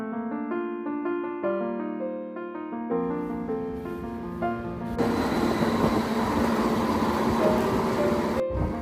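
A UK station train scene with tonal chime or announcement-like notes first, then a loud broadband roar of a train passing or moving close by that cuts off abruptly near the end.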